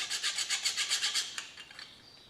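A metal file rasps across a hand plane blade in about a dozen quick, even back-and-forth strokes, close and fairly loud, then stops, leaving a few faint scrapes and taps.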